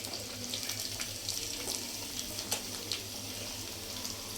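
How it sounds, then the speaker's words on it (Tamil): Prawns marinated in masala sizzling in a frying pan, a steady broadband hiss with faint crackles and a low hum throughout, no voices. "இப்போ ஒன்றுன்னா போட்டு பொரிச்சுக்கலாம்"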